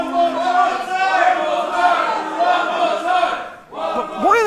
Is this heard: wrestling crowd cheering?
yes